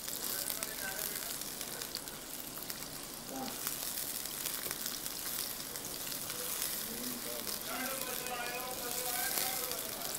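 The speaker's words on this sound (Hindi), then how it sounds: "और प्याज को मैं थोड़ा सा ज़रा सा कलर दूंगी" Chopped onion sizzles and browns in hot oil in a pan, giving a steady, moderately close frying hiss with faint crackles throughout and a voice talking faintly in the background.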